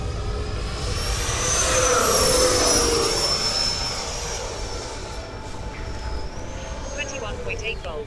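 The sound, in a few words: RC jet plane flying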